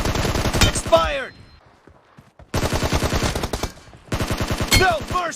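Bursts of automatic gunfire from the mobile battle royale game BGMI, two loud sustained volleys split by a brief near-silent gap, with sharp ringing impact hits layered over the rapid shots.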